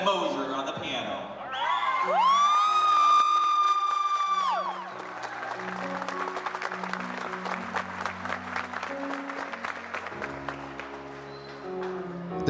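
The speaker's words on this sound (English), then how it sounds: "let's hear it for Cadet Moser on the piano" An audience at a youth boot camp ceremony claps and cheers for a cadet's piano performance, with dense, steady applause filling the room from midway on, after sustained piano-like tones at the start.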